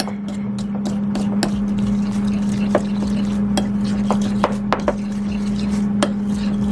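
Spoon stirring a garlic honey glaze together in a bowl, with soft, uneven clinks and scrapes spread through the whole clip over a steady low hum.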